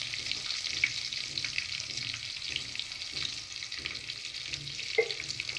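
Onions frying and being stirred in a pan while making chicken dum biryani: a steady close sizzle with scraping stir strokes and a few louder clacks, no talking.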